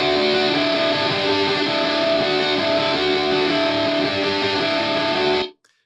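Distorted electric guitar from a song plays a repeating riff with sustained notes, loud and steady, then cuts off abruptly at the end.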